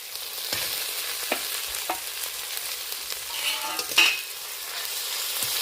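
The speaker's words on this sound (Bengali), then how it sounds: "আবারও ভালো করে একটু 2-4 সেকেন্ড নেড়ে নেব, নেড়ে চেড়ে নেব ভালো করে।" Ginger garlic paste with softened onion and tomato is stirred in a pan for a chana dal and soya dish, giving a quiet sizzle with scattered scraping strokes and a sharp clink near the end.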